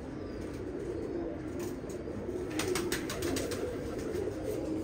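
A young pigeon chick coos softly at close range, with brief rustling, flutter-like bursts over a steady low background hum.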